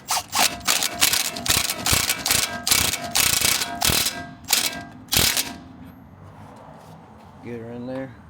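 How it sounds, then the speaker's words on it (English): Impact wrench snugging a tie rod nut on a Jeep Grand Cherokee WK2: a loud, close series of rapid hammering bursts in regular pulses, then stopping, followed by a brief voice at the end. "I'm just going to get her somewhat tight with the Ugga Dugga."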